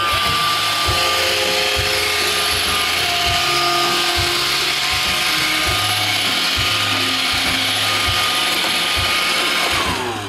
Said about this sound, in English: Basically just push clean button